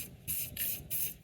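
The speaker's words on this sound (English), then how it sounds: "I've been shaking the crap out of this spray can." Aerosol spray paint can sprays a plastic table set outdoors in three short, loud hissing bursts with brief gaps between them, close to the listener.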